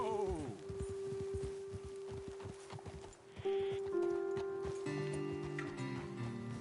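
Horse hooves clopping on ground in Red Dead Redemption 2, a quick run of hoofbeats slowing to a stop, followed by ambient game sounds and a steady musical tone.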